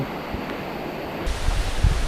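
A fast-flowing mountain stream on Phu Soi Dao, running swift and swollen after heavy rain, gives a steady, close rushing roar of water that grows slightly louder partway through, with no voices.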